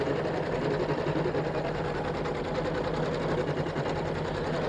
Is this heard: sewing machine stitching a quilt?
yes